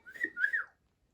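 A person gives a short two-note whistle, close and fairly quiet, lasting under a second, then silence.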